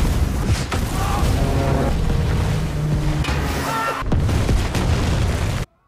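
Chain of unexploded World War II shells detonating in the film Under Paris, a continuous loud rumbling blast with booming surges and churning water, cutting abruptly to silence at the end.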